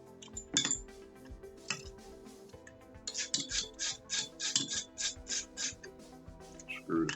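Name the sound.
removing grip screws from a CZ75B pistol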